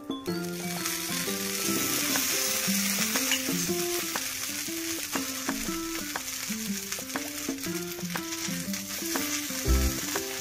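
Carrots and coriander roast crisp in oil in a pan for a quick healthy snack, giving a steady, close sizzle with occasional stirring clicks beneath a soft melodic tune throughout.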